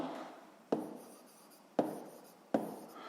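Numbers written down by hand on paper: soft, continuous scratching strokes punctuated by three sharp taps at regular intervals, close and quiet.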